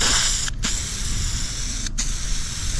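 A Rust-Oleum spray paint can hisses steadily while coating a car body at home, the spray cutting off briefly twice between passes.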